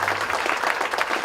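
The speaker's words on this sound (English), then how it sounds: "So kindly give him a very big clap" Audience applause at a two-day national CPE conference in Chennai, a steady wash of many hands clapping together, fairly loud and continuous throughout.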